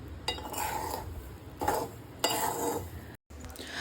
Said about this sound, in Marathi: अशाच प्रकारे बाकीचे शेंगदाणे राहिलेले पण आपण व्यवस्थित मिठामध्ये भाजून घेऊया